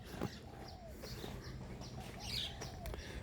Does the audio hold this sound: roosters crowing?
yes